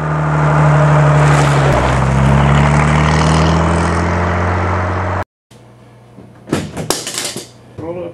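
Car out on a test drive after a clutch repair, its engine droning loudly and steadily close inside the cabin before cutting off abruptly, followed by quieter knocks and rattles.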